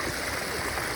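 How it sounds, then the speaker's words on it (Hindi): Clear water flowing along a stream on a night-time waterfall trek near Bhangarh Fort, a steady broadband rush that stays even and fairly close throughout, with no voices over it. "यहाँ से एकदम साफ पानी आ रहा है"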